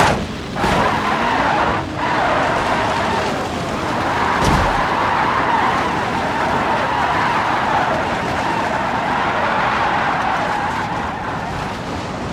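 A Dacia Logan in the BeamNG Drive driving game roars under hard acceleration toward 600 mph, with steady loud engine and tyre noise, a skid, and a sharp thump about a third of the way through.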